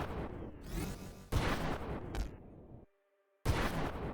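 Flak gun firing in the space game Nova Drift: loud bursts of booming, crackling shots in clusters, a brief near-silent gap with a faint tone, then another heavy burst.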